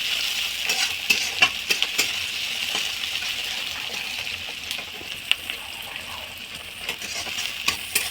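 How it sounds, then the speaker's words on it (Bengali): Chopped onions with ginger-garlic paste fry in a kitchen pan, giving a steady close sizzle while a utensil stirs and scrapes, with scattered sharp metallic clinks against the pan. "তো পেঁয়াজটা ভেজে নিই"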